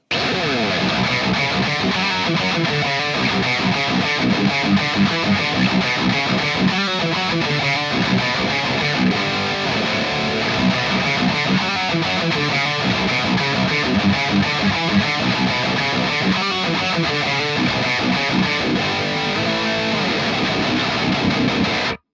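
High-gain electric guitar through the boosted gain 2 channel of a Victory Kraken MKII amp, tight distorted chugging riffs with heavy palm-muted rhythm playing continuously and loud for over twenty seconds.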